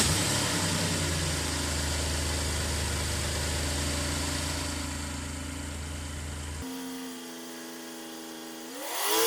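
A Chevy Impala engine in for a P0325 knock sensor fix idles steadily and loud with a deep, even hum, then cuts off and briefly cranks with a rising starter whine near the end.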